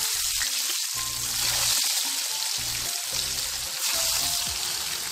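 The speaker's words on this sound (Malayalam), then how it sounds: "ഈ വഴുതനയെല്ലാം നന്നായിട്ട് ഫ്രൈ ചെയ്തെടുക്കണം" Long-cut brinjal slices fry in sunflower oil for a pickle, crackling and sizzling steadily up close, broken by low thumps and clatter from handling in the pan, with no voices.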